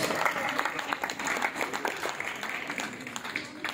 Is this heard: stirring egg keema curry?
no